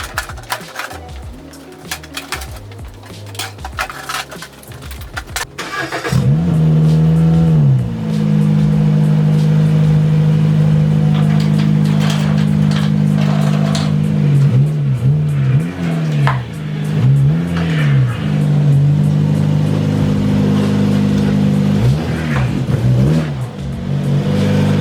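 A car engine revs hard while driving up onto a ramp in a garage, starting with some clattering and then holding a loud, sustained roar with repeated throttle blips and pitch swings.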